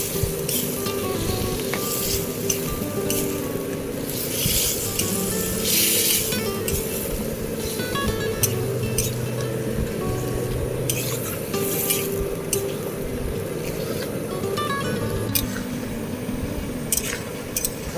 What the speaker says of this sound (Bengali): সেটা আমি এর মধ্যে অ্যাড করব দিয়ে আমি ভালো করে নেড়ে চেড়ে নেব